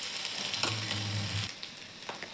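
Mustard seeds and thecha hitting hot oil, a sharp close sizzle that swells for about a second, then settles into softer crackling, with no talk.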